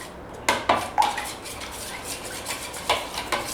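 Eggs being mixed into batter for fried mutton chops, with a utensil clinking and scraping against a bowl in a few sharp knocks, then quieter stirring and a couple more taps, close and fairly soft.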